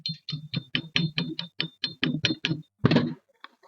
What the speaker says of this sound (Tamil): இப்ப பாத்தீங்கன்னா இது மேல இருக்கக்கூடிய ஃபிளக்ஸை நான் தட்டுறேன்.